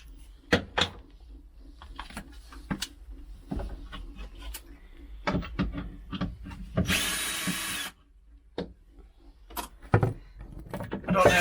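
A power drill backs screws out of a wardrobe in short bursts of whirring, mixed with clunks and knocks of wood panels and a louder grinding stretch near the middle, all fairly close by.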